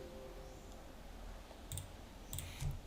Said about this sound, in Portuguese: Aí você clica em continuar.